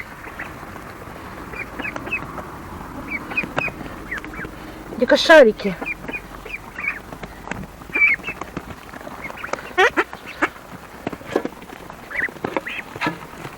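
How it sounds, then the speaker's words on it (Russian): A flock of ducks quacks and smacks while feeding in a village yard, with soft repeated pecking clicks and occasional quacks near and far, while a person speaks briefly. "Вы у меня пекинские утки, что ли? Чавкаете?"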